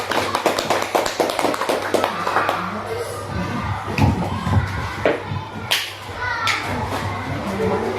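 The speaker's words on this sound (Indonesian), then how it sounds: "tepuk tangan dong untuk Bu Orin" Audience in a school training session applauding a presenter, a dense patter of many hands clapping fast at first, then thinning into scattered claps and thumps under children's voices and chatter.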